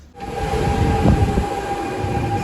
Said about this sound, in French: C'est l'arrivée du RER.